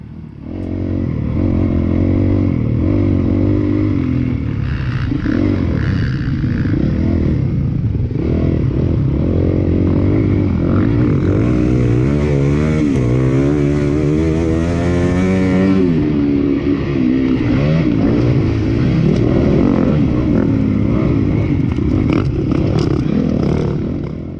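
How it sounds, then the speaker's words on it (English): A dirt bike engine revs hard under throttle during a dusty off-road race, loud and close, its pitch rising and falling with gear changes and clattering over rough ground throughout. "You can hear me getting on the throttle"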